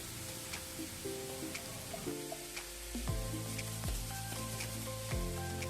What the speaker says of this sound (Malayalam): അങ്ങനെ കടുകൊക്കെ പൊട്ടിച്ചതിന് ശേഷം നമ്മൾ ക്യാരറ്റും കൂടിയൊക്കെ ഒന്ന് ഇട്ട് കൊടുക്കുന്നുണ്ട്.